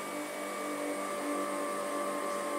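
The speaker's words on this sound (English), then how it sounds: "The motor's beautifully quiet." A Rimoldi 065-34-22 lace sewing machine motor runs with a steady, even, quiet hum, unbroken throughout.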